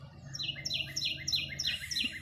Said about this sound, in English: You can hear that bird going